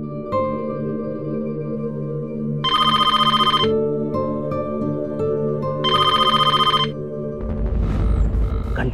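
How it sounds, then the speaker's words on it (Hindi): A telephone rings in two bright electronic bursts a few seconds apart, sounding over a sustained musical drone of background score. "घंटी तो बज रही है"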